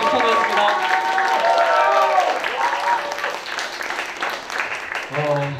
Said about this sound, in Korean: 박수 한 번으로 받아주세요.